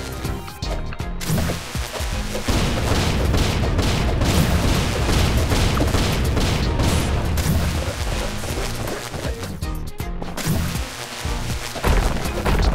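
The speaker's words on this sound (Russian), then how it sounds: "Ого, фейерверки!" Dense rolling barrage of firework blasts and crackling bursts in the video game The Adventure Pals, loud and continuous with scattered sharper pops throughout and no talking.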